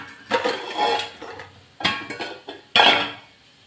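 Several sharp knife strikes on a cutting board as ridge gourd is chopped into small pieces, spaced irregularly with a clatter of utensils between them, close and moderately loud with no talking.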